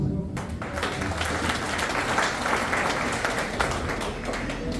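Sustained audience applause at a Moral Kumbh motivational event in Motihari, dense and steady throughout, a loud crowd of many hands with faint voices mixed in.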